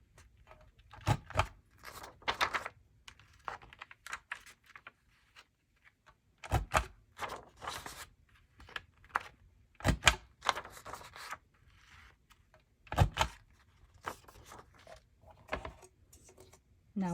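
A corner rounder punches the corners of a handmade vintage-style paper envelope, giving a series of sharp, separate clicks and crunches spaced a few seconds apart, close and fairly loud against a quiet room.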